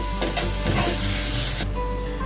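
Masala and ginger garlic paste fry in a pan for a restaurant-style chicken kali mirch, giving a close, dense sizzle with stirring scrapes that eases after a sharp drop near the end, no talking.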